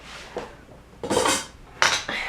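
Dishes, pots and cutlery clatter in bursts while a kitchen is being cleaned up, with a soft clink early on and two loud, close crashes of tableware later, and no talk.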